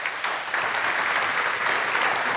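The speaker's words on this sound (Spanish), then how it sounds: "Pues demos un aplauso al Señor." A church congregation claps together in praise, a continuous wash of applause from many hands, fairly distant and steady, with no voices on top.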